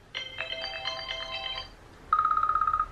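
A phone ringtone sounds, first as a short chiming melodic phrase, then after a brief gap as a rapid, steady, beeping trill, close and clear with no talking.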